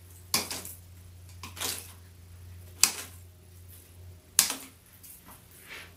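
Scissors snip through a decorative floral spray for a Mardi Gras swag, giving three or four sharp, close cuts spaced a second or so apart, with faint rustling of stems between them over a low background hum.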